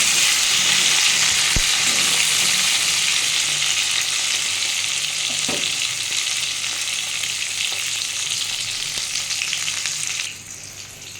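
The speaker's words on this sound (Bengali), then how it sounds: "আমি এবার পটলগুলো ওই তেলের মধ্যে ভেজে নেব লাল লাল করে" Pointed gourd (potol) frying in oil after fish for a katla fish curry, a loud steady dense sizzle holding for about ten seconds with a couple of faint knocks, then dropping abruptly quieter.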